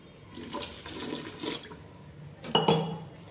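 Water is poured into a rice cooker to make Maggi noodles: a soft, splashy trickle running for about two seconds, then a brief louder clatter near the end.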